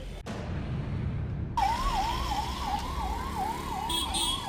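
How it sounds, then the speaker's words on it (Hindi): An ambulance siren wails in a steady rising and falling pattern as it passes along a road, loud over a constant rumble of nearby traffic. "देखिए जब यही रूट खाली रहता है तो देखिए किस तरह से एम्बुलेंस पार होता है।"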